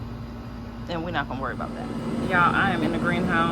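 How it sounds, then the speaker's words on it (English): A constant droning hum from an air conditioning unit running in 100-degree heat fills the background while a person talks over it. "Excuse the noise, but that's my AC unit."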